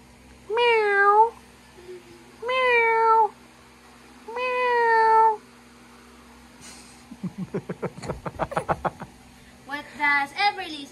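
Several drawn-out cat meows, three long ones spaced evenly, then a burst of quick clicking noises and a final shorter meow, all fairly close and clear with no talking over them.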